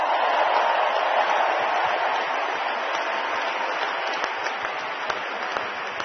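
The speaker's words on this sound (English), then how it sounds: "how about another round of applause for a terrific final" A stadium crowd applauds the finalists at the 2021 US Open women's tennis final, Emma Raducanu against Leylah Fernandez, with dense, steady clapping that fills the space and fades only slightly over the stretch.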